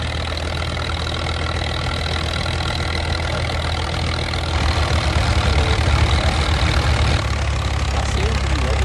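A Caterpillar track-type tractor runs at a steam and antique engine show in Halltown, Missouri, its engine idling and rumbling steadily with a low throb that grows louder midway while people talk nearby.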